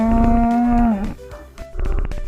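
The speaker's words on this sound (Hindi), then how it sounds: "अचानक ही गोरी ने जोर से रंभाना शुरू किया।" A cow in a Hindi cartoon story lets out a loud, sustained moo lasting about a second, followed by softer background sounds.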